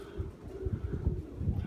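Pigeons just let out of their loft coo in low, soft, repeated throbs close by, a steady murmuring layer with no voices over it.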